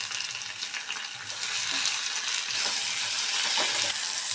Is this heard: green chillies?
yes